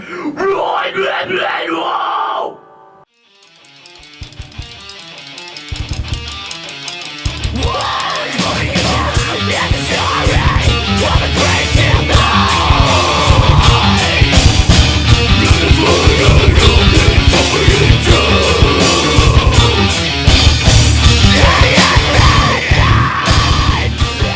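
Hardcore metal screamed vocals from an underground New Jersey band, loud and sustained over dense distorted guitars and pounding drums after a brief pause at the start, a raw yelling voice dominating the mix throughout.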